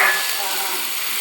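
Tomatoes hitting a hot pan of oil for rasam give a steady, close broadband sizzle that holds evenly for the whole moment, with a slightly louder burst right at the start and no voices.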